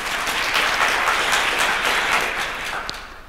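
An audience at an education conversation event applauds, a dense sustained wash of clapping from a crowd that tapers slightly near the end.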